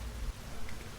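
Steady rain falling under a spooky narrated story, a soft even hiss of drops with no break or voice over it.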